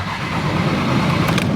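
A Ferrari 360 Spider engine cranks and rumbles close by in a brief, loud burst of uneven low churning that never settles into a clear idle.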